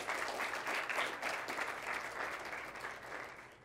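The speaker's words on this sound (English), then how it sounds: "So a round of applause for Brock." Audience at a high school signing ceremony clapping together, a dense steady patter of applause from a room full of people, sustained and fairly even before tapering slightly at the end.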